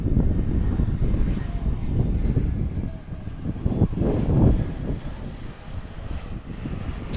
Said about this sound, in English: hey, look, an A319 for Jackson